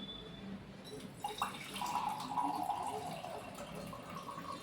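Water is poured into a container, a soft trickling splash that rises and gurgles for a few seconds, fairly quiet and close.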